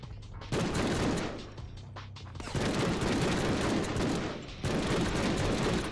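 Gunfire in the Deadpool video game, loud dense bursts of rapid shots in two long volleys separated by brief lulls, with no talk.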